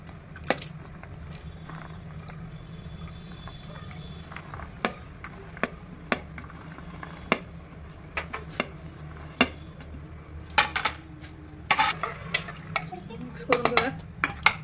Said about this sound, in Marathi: चिरून घेतलेल्या भाज्या त्यात टाकून घेऊयात.